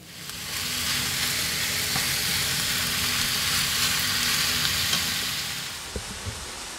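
Flour browning in a dry frying pan gives a steady, even sizzle with faint scraping from stirring and a couple of light knocks near the end, close and continuous with no talk.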